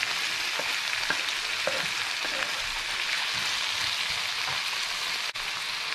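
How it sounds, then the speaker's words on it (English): Roughly chopped small tomatoes fry in a pan for a spicy Sri Lankan tomato curry, giving a steady, close sizzle with faint stirring clicks and taps throughout. "Now I'm going to add my tomatoes."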